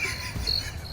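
Crickets chirp in a brief sound effect, a short burst of high, thin trilling with no voices.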